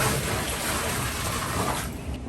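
A bucket of hot water is poured into cold water for a Savannah monitor enclosure, making a steady, close, full-bodied rushing splash that runs for a couple of seconds before easing off.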